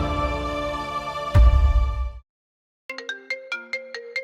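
A phone ringtone sounds for an incoming call: a sustained ringing tone cuts off after a brief silence, then a series of short repeated chime notes follows, clear and close.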